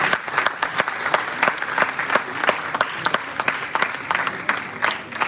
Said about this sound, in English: Let's continue with the huge round of applause.